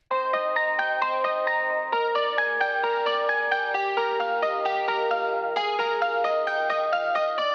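A keyboard part from a song, a clean, bell-like melody of evenly spaced notes over held chords, moderately soft and steady throughout with no voices.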